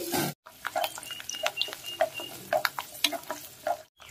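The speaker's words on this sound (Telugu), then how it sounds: "ఈ వేడెక్కిన నూనెలో ఈ వెల్లుల్లిపాయలు" Garlic cloves drop into heated oil in a pot for garlic oil for an amaranth leaf stew, giving an irregular crackling and popping sizzle with scattered sharp spits, fairly quiet and close, with brief silent gaps.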